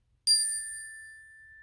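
A small hand bell is rung a second time at the start of a kids' lesson: one crisp strike with a sustained, shimmering ring that decays slowly, clear and close, with no talking over it.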